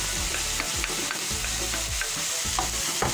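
Ground meat frying and sizzling in a pan with pepper and cumin while a spoon stirs it in steady scraping strokes, close and continuous with no talk.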